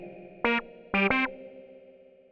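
Short Arturia ARP 2600 V software synthesizer stabs with reverb, two quick bursts followed by a fading reverberant tail that lingers softly in the space.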